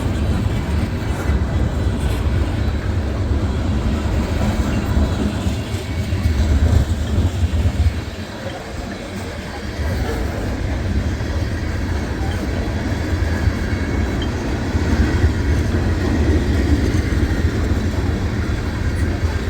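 A CSX freight train pulls boxcars past in snowy Point of Rocks, a loud continuous rumble and wheel roar with rhythmic rail clatter, sustained throughout as cars roll by nearby.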